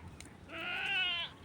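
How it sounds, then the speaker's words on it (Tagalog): A single female farm goat lets out one clear, wavering bleat lasting under a second, fairly close and alone against quiet background. "Isang kambing doon na inahin."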